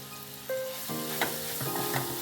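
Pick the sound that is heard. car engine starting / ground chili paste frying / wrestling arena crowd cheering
ground chili paste frying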